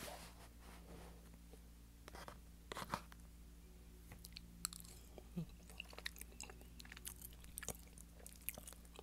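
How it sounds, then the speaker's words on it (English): Close, quiet chewing of bacon pasta, soft irregular mouth sounds and small bites over a low background hum, with no speech. "Let's try their bacon pasta."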